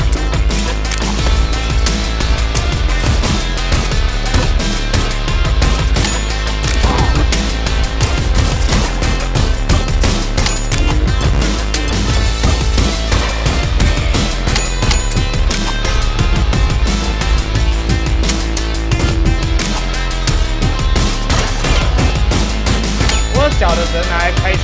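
Relentless gunfire from the rhythm shooter BPM: Bullets Per Minute, played on hell mode as the character Grey, cracks in rapid bursts locked to pounding heavy-metal music, loud and dense throughout.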